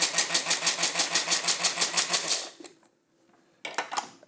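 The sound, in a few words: Bamix hand blender pulsing, grinding Parmesan cheese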